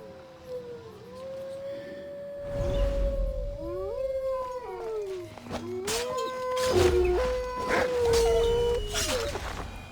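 Wolves howling in Assassin's Creed Odyssey, several overlapping long wavering howls rising and falling together, loud and close, with bursts of game noise and thumps between them.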